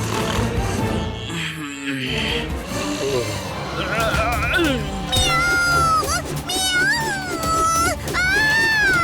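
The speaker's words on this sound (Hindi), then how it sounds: "वीर, यहाँ बिल्ली है।" A cartoon cat in an animated Hindi robot-boy movie meows repeatedly in long, wavering, drawn-out cries over music and other soundtrack noise.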